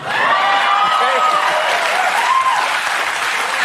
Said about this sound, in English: Y'all cheering out there